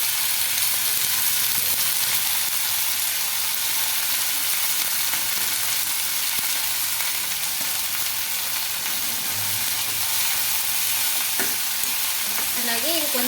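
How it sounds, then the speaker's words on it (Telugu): Fenugreek leaves fry with onions in a pan, a steady close sizzle with scraping stirring strokes and a brief metallic clink near the end. "ఆనియన్స్ కొంచెం ఫ్రై అయిన తర్వాత ఇప్పుడు ముందుగా కడిగి పెట్టుకున్న మెంతం కూర అయితే వేస్తున్నానండి"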